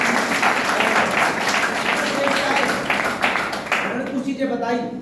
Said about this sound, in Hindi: मैं चाहूंगा जोरदार ताली हो जानी चाहिए मदन।